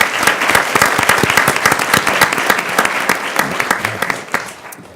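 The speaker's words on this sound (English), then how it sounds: "Let's give another round of applause to Olivia." An audience at a school board meeting applauds an honoree, with loud, sustained, crisp clapping from many hands that continues throughout and tapers slightly at the end.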